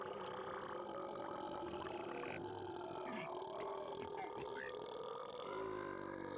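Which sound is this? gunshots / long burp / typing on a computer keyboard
long burp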